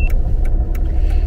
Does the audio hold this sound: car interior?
yes